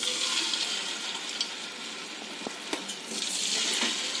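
Idlis deep-frying in hot oil give a steady, faint sizzling hiss with a few soft pops and clicks, without any talk.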